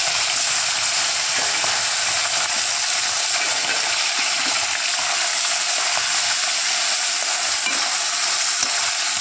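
Fish frying in mustard oil in a hot wok, a loud, steady sizzle that crackles and spits continuously without pause, heard close up.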